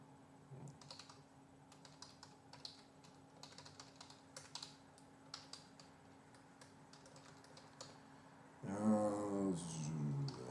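Steady, soft clicking of keys being typed on a computer keyboard, then a louder burst of noise near the end.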